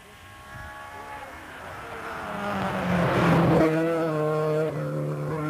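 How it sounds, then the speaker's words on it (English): An Opel Manta rally car sweeps through a turn on a rally stage near Millstreet, its engine note rising loud and close, then fading as it passes by. "just gone by Austin McHale and his Opel Manta, really bomby it around the turn there"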